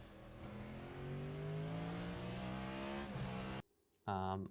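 In a racing video game, a Cadillac V-Series.R race car's engine climbs steadily in pitch under acceleration at Motegi, cuts out briefly, then roars back hard for a final burst.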